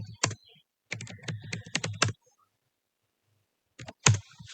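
Computer keyboard typed on to enter an initial VNC server password, a quick burst of close key clicks, a pause of silence, then a few more keystrokes.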